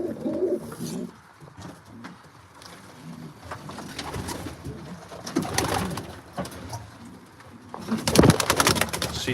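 Racing pigeons in a loft coo repeatedly at close range, with soft rustling and wing flutters, and a louder burst of cooing and movement near the end.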